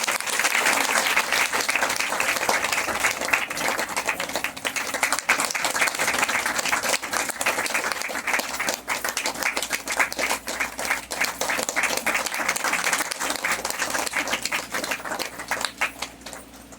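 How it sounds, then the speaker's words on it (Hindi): An audience at an All India Dusadh Pariwar gathering claps steadily throughout, a long dense run of close, lively applause that holds its level for the whole stretch. "आप लोग ताली के साथ"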